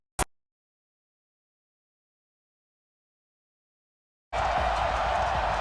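Madden NFL 2020 stadium crowd of Raiders fans in silver and black roars loudly and continuously after a sharp click and long silence, a dense wash of cheering noise.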